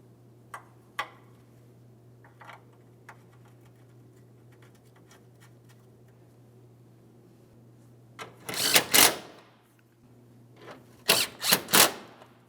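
A ratchet snugging the 12mm mounting bolts of a radiator and AC condenser on a 2003-2008 Toyota Matrix, a few soft clicks followed by two bursts of quick ratcheting clatter, close, over a faint steady hum.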